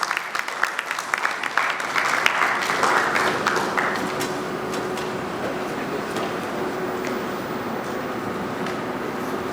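A crowd at a bank's unveiling event claps briefly for a speaker, and the applause thins out within a few seconds into a steady low hum of room noise.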